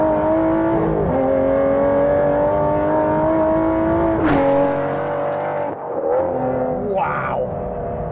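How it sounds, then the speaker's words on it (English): An Aston Martin Vantage GT12 engine revs loud and close, with rising and falling pitch sweeps, a sharp blip midway, then a sudden drop and a quieter rev afterward. "One of the best car noises ever."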